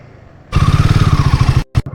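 A motorcycle on a long Kolkata to Arunachal Pradesh ride being parked at a roadside hotel: after quiet, the engine suddenly runs loud and close with a fast pulsing throb, then cuts out abruptly with a short final burst.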